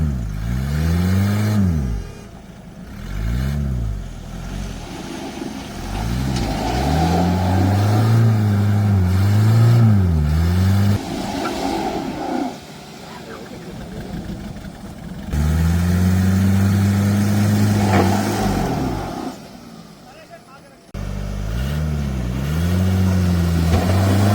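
A car stuck in the jungle revs hard again and again, rising and falling in long strained bursts with short pauses between attempts, loud and close.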